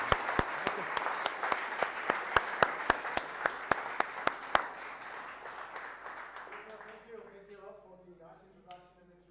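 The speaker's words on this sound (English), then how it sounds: "we can welcome Rainer with a very warm applause on stage" A theatre audience at a Vienna gathering breaks into warm applause to welcome a speaker on stage: sustained dense clapping with sharp individual claps standing out, tapering off after several seconds as murmured voices take over.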